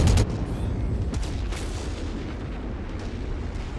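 Machine guns on a mech in the MechWarrior video game open with a sharp, heavy burst of fire, then a booming rumble that slowly fades.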